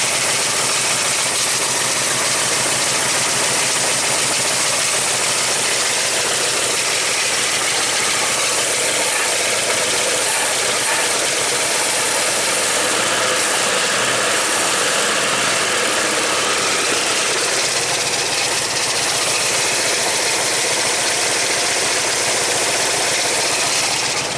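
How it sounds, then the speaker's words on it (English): A 1973 AMC Gremlin with a 5.0 V8 and three-speed floor shift idles steadily and close by, a rough, even rumble running on without pause for the whole stretch, with no talking over it. "This thing actually going to sit here and idle."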